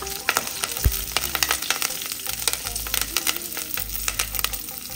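Mustard seeds and curry leaves sizzle and spatter in hot oil for a tadka, a loud, close crackle with rapid irregular pops throughout and no speech.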